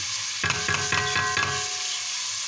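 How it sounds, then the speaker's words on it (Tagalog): Ground pork sizzles in a pan for Filipino lomi, with four quick stirring scrapes in a row over a steady, close frying hiss that continues alone afterward. "Tayin natin siyang mag golden brown ng konti. Naprito yung giniling."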